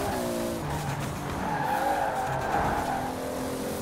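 Car skidding and losing traction in Forza Horizon 4, a Hot Wheels-style car with a swapped 2JZ engine. Tires squeal steadily under engine noise for the whole stretch, with no talk.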